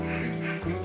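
Hybrid ducks on a duck farm in Gunung Sindur, Bogor, a brief burst of nasal quacking from a flock close by.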